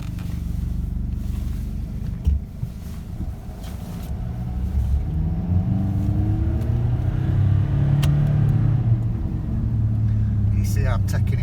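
A Nissan 4x4 engine revs in first gear up to about 4,000 RPM, a loud, close growl that climbs steadily in pitch over several seconds after a rough low idle, with brief speech at the end.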